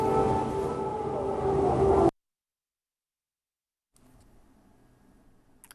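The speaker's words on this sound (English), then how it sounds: "We understand that siren was the all-clear signal." An air raid siren in Lviv sounds the all-clear with a steady wailing tone for about two seconds, then cuts abruptly to silence before faint background noise returns.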